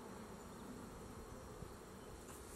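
A hive check fills the air with a dense, continuous hum of many bees buzzing close by, steady and unbroken with no talking.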